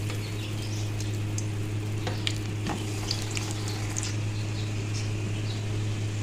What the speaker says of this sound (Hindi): ऑयल हमारा गर्म हो चुका है, तो अब हम इसमें एक एक करके डालते जाएंगे और इनको शैलो फ्राई कर लेंगे